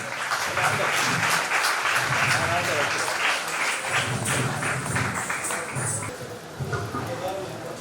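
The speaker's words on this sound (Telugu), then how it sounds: "let's welcome them with your claps" An audience claps steadily in welcome as school children arrive at a school ground opening and felicitation ceremony, dense, continuous applause, fairly close, with voices mixed in beneath.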